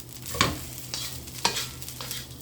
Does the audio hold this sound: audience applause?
no